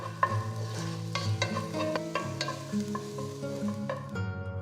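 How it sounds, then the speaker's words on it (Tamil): Minced garlic sautéing in two teaspoons of hot oil in a kadai, a steady soft sizzle with repeated clinks and scrapes of a spatula stirring throughout. "கடாயில் ரெண்டு டீஸ்பூன் எண்ணெயை ஊற்றுங்க நெக்ஸ்ட் கொஞ்சமாக பொடியாக நறுக்கின பூண்டு சேர்க்குறேன்"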